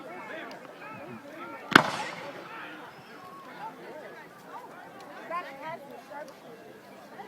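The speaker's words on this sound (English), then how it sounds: "a massive volley, all those muskets going down at once" A single sharp, loud crack from a musket volley fired all at once at a Civil War reenactment of First Manassas, with spectators murmuring and talking before and after.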